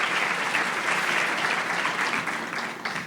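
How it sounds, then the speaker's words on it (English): An audience at a leadership event breaks into applause, a full, even patter of many hands that holds steady for a few seconds and tapers slightly at the end, with no one speaking over it. "I think that should get an applause"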